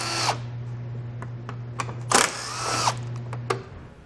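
A power tool runs underneath a 2019 Ford Explorer to remove 8-millimeter bolts, holding a steady motor whine broken by sharp clicks and a few ratcheting bursts, all close and with no talking.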